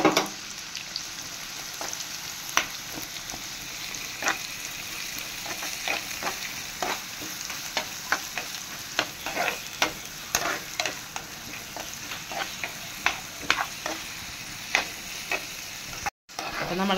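Onion fries in a pan of hot oil with garlic while a spoon stirs it: an even sizzle carries on throughout, dotted with regular clinks and scrapes, ending in a brief break.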